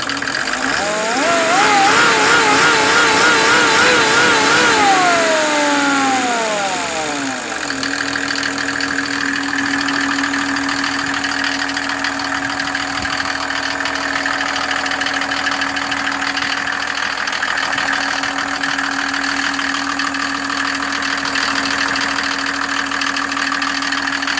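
A Mercedes OM603 turbo diesel driving a PN-40 motor pump revs up high, then settles into a loud, steady, droning idle with a constant mechanical hum throughout.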